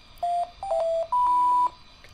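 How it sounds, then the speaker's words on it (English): Pure electronic sine-wave tones from a CircuitPython tone generator on an Adafruit NeoTrellis M4 board, three clean steady beeps of rising pitch, the last one holding longest and sounding alongside a lower tone, close and fairly loud. "it's going to play the sine wave just like it used to"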